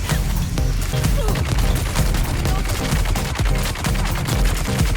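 Rapid bursts of gunfire and booming grenade blasts from a shooter video game, dense and continuous at close range, with a voice talking underneath.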